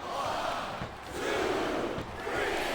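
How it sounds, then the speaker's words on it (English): A wrestling arena crowd in WWE SmackDown vs. Raw 2007 roars and cheers continuously, a loud dense wash of voices that swells and dips in waves. "Listen to the crowd, JR"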